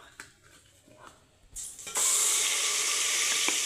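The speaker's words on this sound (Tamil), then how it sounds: "இப்போ இதை நம்ம வந்து எண்ணெயில் சேர்த்து வதக்கிக்கலாம்" Ground masala paste for a country rooster semi-gravy hits hot oil: after quiet clatter, a loud, steady hiss and sizzle bursts in and continues to the end.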